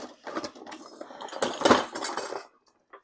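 A metal teaspoon clinks and scrapes against a container while measuring baking powder for scones, a quick run of close, light metallic taps and rattles that stops abruptly, with no talking.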